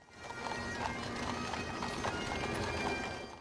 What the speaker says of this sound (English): 4 horses with riders pull, 2 of which led President Reagan's casket in June of 2004.